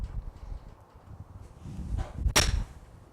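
One sharp, clicky strike of a Benross HTX Compressor golf iron on a ball, brief and bright, amid faint outdoor background noise.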